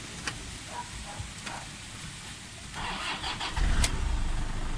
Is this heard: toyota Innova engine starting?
yes